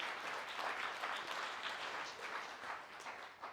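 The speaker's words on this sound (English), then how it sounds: "Let's give a round of applause for Fran" Audience applause at an awards event honoring a marathon runner, continuous crowd clapping heard faintly and at a distance, steady with small swells.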